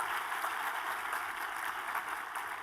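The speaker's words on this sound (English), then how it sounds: "we need to give Simone another round of applause" Audience applause after a talk on gut microbes, a steady even wash of clapping heard from some distance at moderate-to-low level, continuous for a few seconds with no voices on top.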